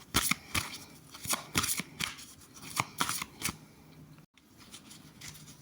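Tarot cards being shuffled for a cross spread, a series of crisp riffling bursts in an irregular rhythm, close and fairly quiet, with no talking over them.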